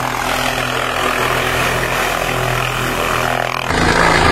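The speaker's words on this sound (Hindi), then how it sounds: "ये देखिए एक हेलीकॉप्टर यहाँ उतर चुका है, लैंड कर चुका है" Helicopter at the Phata helipad after landing, its engine and rotor giving a loud, steady whine and drone that holds evenly, then shifts briefly near the end, with no voices.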